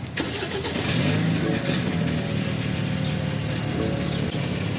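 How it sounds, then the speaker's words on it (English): A BMW engine turns over and settles into a rough idle with a rattling, buzzy exhaust rumble throughout, close to the microphone. "you go to start it, as I'm about to do now, and you just happen to hear this rattling noise"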